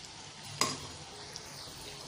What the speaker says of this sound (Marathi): आपल्याला गोल्डन ब्राऊन कलर होईपर्यंत फ्राय करून घ्यायचे आहेत.